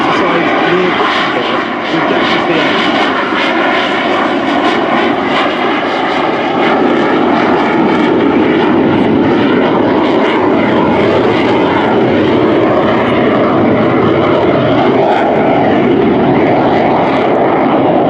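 A JAS-39 Gripen jet fighter roars through a flying display at RIAT 2024, the Royal International Air Tattoo airshow, a loud, sustained engine blast that holds steady for the whole stretch, with voices faintly underneath.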